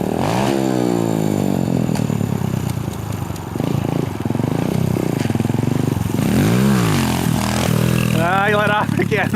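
A motorbike engine revs up and down close by, rising and falling pitch sweeps over a rough idle, loud and continuous, with people talking over it.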